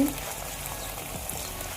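Ghee sizzles and crackles as it goes into semolina halwa frying in a pan, a steady close hiss with a few soft stirring scrapes, no voices.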